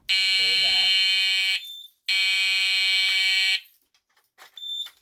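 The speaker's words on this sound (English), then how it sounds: "I'm just going to press it once for an audible test" An Edwards Fireshield Plus fire alarm panel sounds a zone test: two loud, shrill, steady alarm tones, each lasting about a second and a half, with a brief voice underneath and a short fainter chirp afterward.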